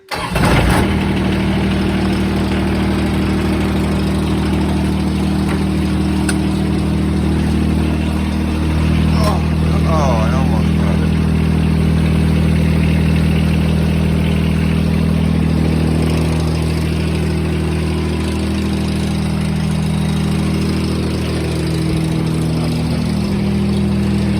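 A John Deere 425 or 455 lawn tractor's diesel engine cranks briefly after the glow plugs heat, catches, and settles into a steady, loud idle with a pitch change partway through, while someone talks nearby.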